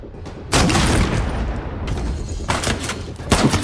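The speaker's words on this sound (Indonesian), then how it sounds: "Miguel kembali mengamuk dengan menembaki seluruh pengawal terakhir di pintu masuk" A gunman in a film scene opens fire on guards at an entrance, sharp loud bursts of shots starting abruptly and repeating in clusters over a few seconds.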